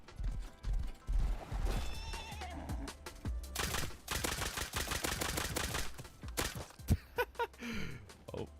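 Horse hooves clip-clop and a horse neighs repeatedly in a crafting video game, mixed with bursts of gunfire and impact sounds that rise and fall over several seconds.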